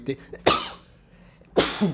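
A sharp, explosive burst like a sneeze, followed after a pause by a second forceful burst, with brief talk mixed in near the start.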